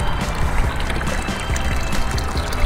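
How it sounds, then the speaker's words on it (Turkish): Steady rushing and splashing of liquid pouring from a boat into the sea, loud and close, with no talking. "Bu şeyler denize akıyor."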